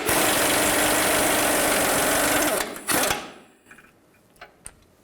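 A power tool's loud whirring buzz runs steadily while a 21mm socket spins a transmission mount nut off a 2000-14 GMC Yukon, then cuts out, leaving a few faint metallic clinks.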